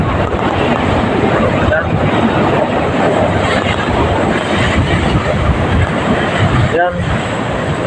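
Strong wind roars over the microphone with constant rushing water and strong waves on the open Pacific from a fishing boat, a dense, loud wash of noise throughout.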